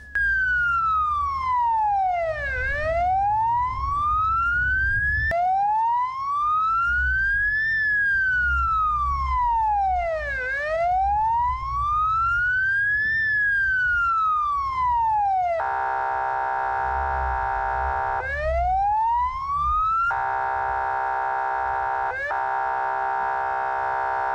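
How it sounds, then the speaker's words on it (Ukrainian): An ambulance siren sounds alone and loud, first as a sweeping wail that rises and falls in steady repeated cycles, then switching to a flat, harsh buzzing tone that drops out briefly and returns over low road rumble. "коли їде швидка зі спецсигналами"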